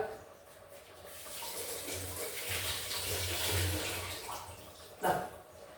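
Drumstick leaves are rinsed under a running tap for a sambar, with a steady broadband gush of water that swells and holds through the middle and ends in a brief splash near the end.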